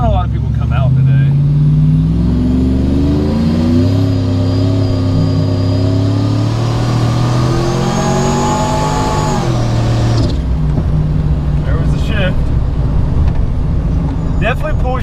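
A procharged Trailblazer accelerates hard, its engine and supercharger whine climbing steadily in pitch before easing off, loud and heard from inside, followed by a quieter idle with faint voices.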